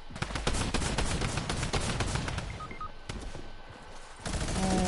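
Rapid, dense bursts of gunfire, including revolver shots, crackle through a fast-paced video game firefight, with repeated sharp reports and sustained rattling across the whole passage.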